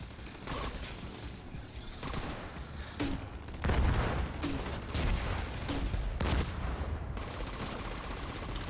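Sustained automatic gunfire and turret fire in The Division 2 rattle continuously, loud and dense, with occasional heavier bursts and impacts throughout.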